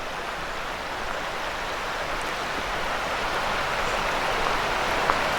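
A creek at Climbers Run Nature Preserve in Lancaster, PA, running high after recent flooding, gives a steady, even rush of flowing water with no voices.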